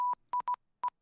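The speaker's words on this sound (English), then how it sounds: "That was Morse." Morse code beeps sent over a voice call: a clean, steady tone keyed in a few short and longer pulses with silent gaps, loud and alone.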